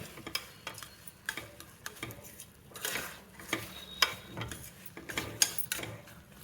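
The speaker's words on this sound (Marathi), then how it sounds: "आता थोडा मोठा गॅस करून आपण हे परतवून घेणार आहे" Sweet puran filling stir-fried in a pan over a higher flame, with repeated close spatula scrapes and taps in an uneven rhythm over a low steady sizzle, no voices.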